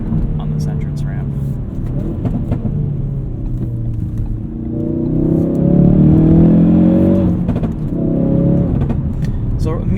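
A modified Ford Focus RS in drift mode accelerates up a highway entrance ramp, its engine rumbling low then climbing in revs with a steady, close drone from inside the cabin.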